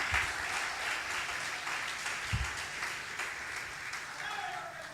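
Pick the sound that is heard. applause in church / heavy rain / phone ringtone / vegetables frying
applause in church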